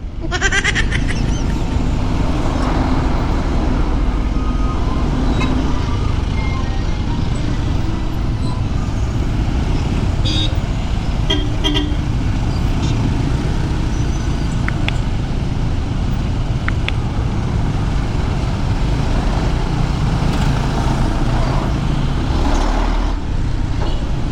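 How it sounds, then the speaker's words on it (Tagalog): Busy road traffic of cars and trucks heard from a delivery rider's position, a dense continuous rumble of engines with scattered brief horn-like tones and clatter throughout, loud and close. "Back to normal ang traffic."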